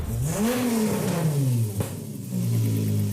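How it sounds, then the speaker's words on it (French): A Volkswagen Golf 3 with a VR6 engine revs hard, its pitch sweeping up and back down, then climbing again to a sustained high note, loud and close with no talking. "c'est un son qui est vraiment particulier sur les moteurs VR6"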